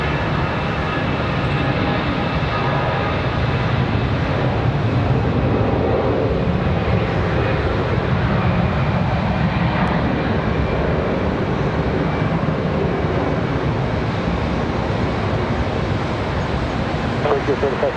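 An American Airlines jet takes off from runway 18 center at Charlotte Douglas International, a steady, broad engine roar that holds loud and unbroken, with radio voices under the noise.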